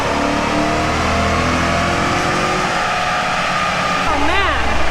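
A Chevy Tahoe with new headers and exhaust, apparently supercharged, roars loudly at high speed near 95 mph. The engine note drones steadily with heavy road and wind noise, then shifts pitch near the end, and voices seem to come through over it.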